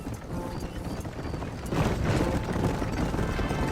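Horse hooves galloping in Red Dead Redemption on the long ride to Chuparosa, a fast continuous clatter of hoofbeats mixed with rumbling ambience, loud and close, building slightly halfway through.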